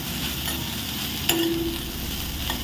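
Okra sautés in a little oil in a pan with a soft, even sizzle, and a single sharp clink rings out partway through.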